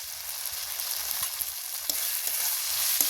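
Chopped mango and chilli powder frying in tomato masala in a pan, giving a continuous close sizzle with occasional soft spatula knocks and stirs, steady and unbroken with no talking.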